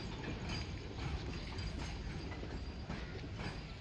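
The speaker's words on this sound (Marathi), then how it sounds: "हे बघ ट्रेन चालली आहे ना बघ" A passing train gives a steady, fairly faint rumble with rhythmic wheel clatter on the rails throughout, heard from nearby without speech.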